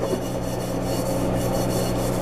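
A burnt pot is scrubbed to loosen stuck-on food, giving a continuous, loud, rasping rub with no pauses and no talking.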